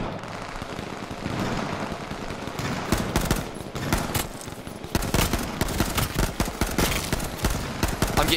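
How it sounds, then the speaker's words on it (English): Rapid video game gunfire crackles in dense bursts that intensify midway, with sharp repeated shots over a steady background rumble and no talking. "I'm getting shot up"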